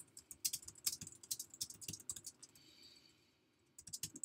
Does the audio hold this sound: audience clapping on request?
no